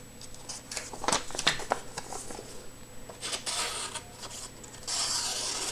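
Knife blade rubbed over the fine side of a sharpening stone, soft close scraping strokes in an uneven rhythm, growing into a steadier rasp near the end.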